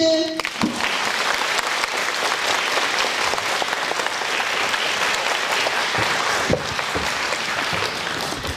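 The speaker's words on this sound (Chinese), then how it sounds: "我们接下来就请大家用最热烈的掌声来欢迎许医师" A large audience breaks into sustained applause at a talk in Taipei, a dense, even wash of clapping that holds steady for several seconds without pause.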